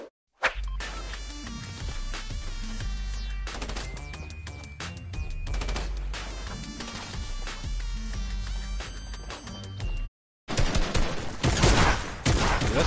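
Rapid gunfire bursts crackle through dense Fortnite-style video game action, with repeated shots layered over game music and effects for most of the stretch, a brief gap, then a final loud flurry.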